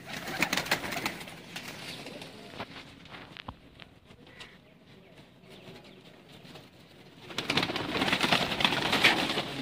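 Sialkoti pigeons, a pure Sheikh-line bird, coo softly amid rustling and shuffling in a coop, with louder bursts of flapping and scratching near the start and end.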